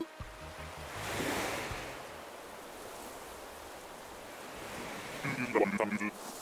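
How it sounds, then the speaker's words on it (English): Waves breaking on a beach shore in the video game Animal Crossing: New Horizons, a steady soft surf wash with wind, swelling briefly near the start, with a short tonal game chime near the end. "the waves breaking, as the wind chases them ashore"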